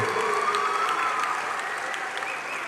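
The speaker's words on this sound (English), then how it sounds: "A huge round of applause to this incredible team." A large audience at a spiritual festival event applauds a performing team, a steady, moderately distant roar of clapping that holds evenly, with a faint sustained tone running beneath it.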